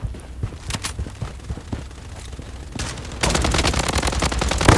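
Video game gunfire in Bloodstrike, a first-person shooter: sparse scattered shots give way to a loud, rapid automatic burst of machine-gun fire that keeps going to the end, with no voices over it.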